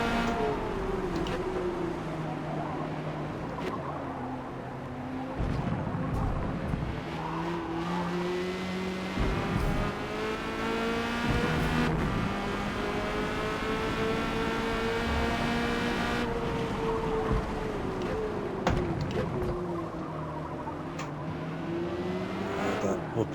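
Corvette C8.R race car in Forza Motorsport lapping Yas Marina, an engine note rising and falling through repeated upshifts and downshifts with brief tire squeal, and a voice talking at times.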